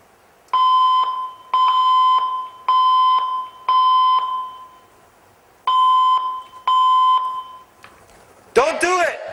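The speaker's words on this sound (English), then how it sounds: "There has been an alarm reported in the building." A loud electronic building fire alarm tone repeating in regular long beeps, six pulses with short gaps, followed by a brief burst of noise.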